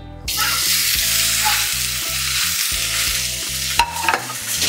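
Small pieces of pork belly hit a hot pot with no oil and burst into loud, close sizzling and crackling that holds steady for several seconds, with a stir near the end and no talking.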